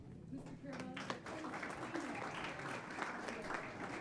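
An audience claps steadily for a volunteer at a recognition ceremony, dense and sustained, with a speaking voice briefly audible early on.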